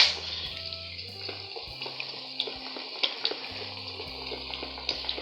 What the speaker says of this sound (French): Ce que je verse enfin c'est de l'huile.